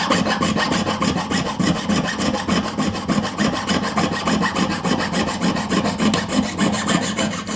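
A jeweller's saw cuts through a silver ring in a steady, fast back-and-forth rasp, each stroke repeating evenly at close range with no talking.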